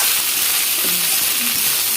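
Egg fried rice with masala sizzles steadily in a hot, smoking pan as it is stirred, a dense close hiss with faint scraping of the utensil and no voices.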